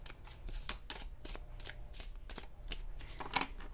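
Oracle cards being shuffled by hand during a reading, a run of soft rapid riffling bursts repeating steadily through the stretch with a sharper flick near the end, close and fairly quiet with no talk.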